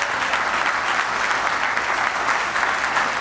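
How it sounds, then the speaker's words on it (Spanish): Church congregation applauding together, a dense steady wash of clapping that holds at even strength throughout with no voices above it. "Dale un aplauso al que vive en Dios."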